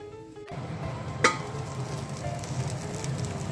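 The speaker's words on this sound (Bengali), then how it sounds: "আলু ভাজা বসে গেছে" Potatoes frying in oil in a home kitchen, a continuous dense sizzle close by with a sharp clatter near the start, no speech.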